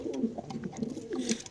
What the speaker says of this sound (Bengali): খুবই সুন্দর এই কবুতর মাশাআল্লাহ